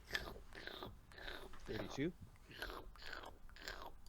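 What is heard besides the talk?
slurping and chewing, a creature eating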